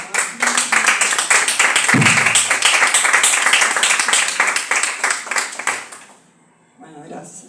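An audience at a talk on gender and current law applauds in a sustained round of clapping that swells and then fades out, with a voice speaking briefly as it ends.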